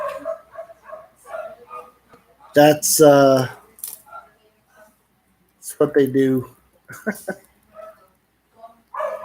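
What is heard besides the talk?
excited dogs barking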